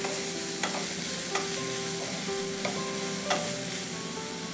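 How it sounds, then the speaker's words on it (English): Finely chopped capsicum, carrots and French beans sauté in a pan with a steady sizzle, while a utensil stirs and scrapes about four times at regular intervals. The sound is close and there is no talk. "we'll saute this for 2 to 3 minutes"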